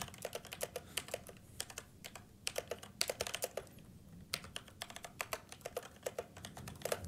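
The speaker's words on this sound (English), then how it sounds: "This is the brown version of mechanical switches." Typing on a Tesoro Lobera Spectrum mechanical keyboard with brown switches: steady, close bursts of crisp key clacks in uneven rhythm, with short pauses between runs of keystrokes.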